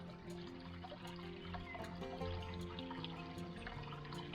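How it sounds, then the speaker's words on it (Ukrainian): Soft, steady trickle of water running over a low barrier from a lake, faint and continuous with a gentle bubbling texture and no voices. "Протікає водичка."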